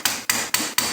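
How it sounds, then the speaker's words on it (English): A hammer taps gently on the bearing retainer of an AX15 transmission during teardown, four evenly spaced metallic strikes, close and fairly loud, with nothing else around them. "I'm basically gently tapping on the bearing retainer to slide that other piece down."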